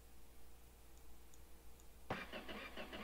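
A car engine in a video game cranks and catches abruptly after a quiet idle hum, settling into a loud, busy rumble with rhythmic pulsing; no one speaks.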